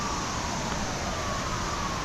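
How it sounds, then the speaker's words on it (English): A warning siren sounds near the falls at Rock Island State Park in Tennessee as water is released, a steady distant wail under broad rushing water noise. "Sounds like they've got a siren."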